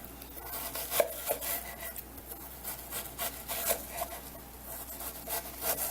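Knife finely chopping an onion on a board, a steady run of quick dry cuts and rasps, fairly quiet and close, with no talking.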